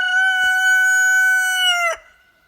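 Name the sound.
chickens in a chicken coop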